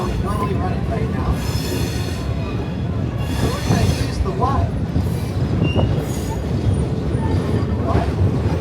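A Roaring Camp Railroads train in Santa Cruz rolls steadily along with a continuous low rumble, wheel squeal and rattling cars, while a person speaks over it.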